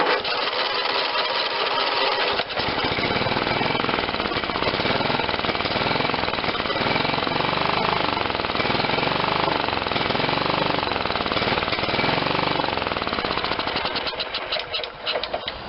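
Kohler 16hp engine on a John Deere LT160 lawn tractor cranking on its starter, a loud, continuous rhythmic chugging that runs nearly sixteen seconds without catching, close up.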